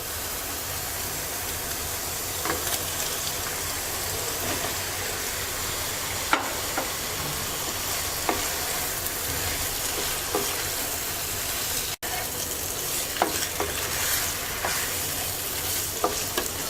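Fish pieces frying in a spiced tomato masala for a Bengali mixed-fish curry, a continuous low sizzle with occasional stirring scrapes and soft pops, steady and unbroken with no talking.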